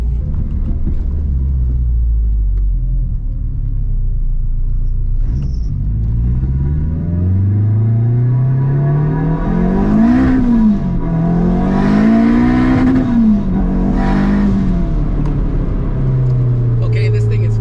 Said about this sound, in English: That's like half throttle, and it is just pulling like crazy.